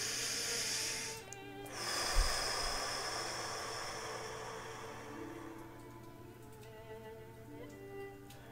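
A single slow breath, soft and close, drawn in and let out during a quiet guided meditation, with no voice over it.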